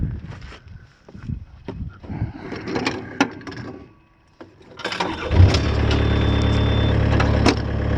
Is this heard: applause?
no